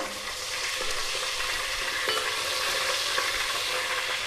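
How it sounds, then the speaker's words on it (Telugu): Tempering spices crackle and fry steadily in hot oil for a long brinjal curry, a continuous close sizzle with small pops throughout and no talking. "ఈ పోపు దినుసులు వేగింది కదా"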